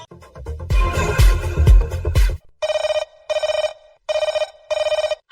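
Telephone ringing on a Hindi radio phone-in programme: four evenly spaced rings, each a bright electronic burst with short gaps, following a loud stretch of music.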